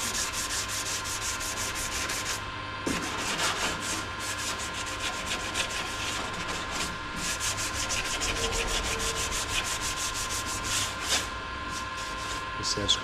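Abrasive paper scrapes steadily over body filler on a Mini Cooper panel in light, continuous back-and-forth strokes that stay close and even with only brief breaks.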